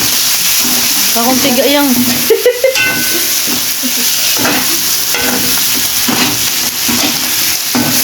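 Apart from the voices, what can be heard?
shrimp frying in butter with garlic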